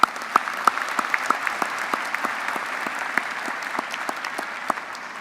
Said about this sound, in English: Let's clap for him as well, if we may.